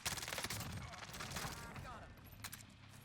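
Rapid submachine-gun fire from a Mac 10 in the Warzone video game, dense bursts of shots packed close together and fairly loud, mixed with other battle noise and faint talk.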